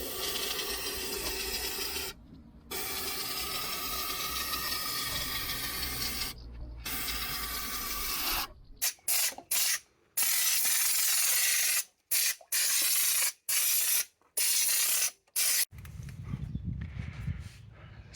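A small compressor drives a lance that sprays thin, dripping cavity protection into the body of a rusty old Mercedes-Benz, with hissing bursts broken by short pauses and a spluttering stretch near the end.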